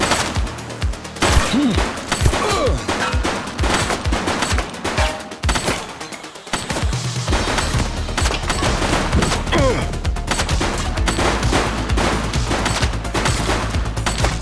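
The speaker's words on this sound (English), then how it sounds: "She's shooting!" Gunfire in the police video game The Precinct: rapid, loud bursts of shots and sustained volleys crowd the scene, with short pauses and a brief lull midway before the shooting resumes densely.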